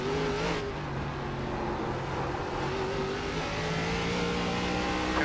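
Race car engine on the Chicago street course, an ARCA stock car, droning loud and close with rising pitch harmonics as it downshifts and accelerates, steady and continuous with no talk.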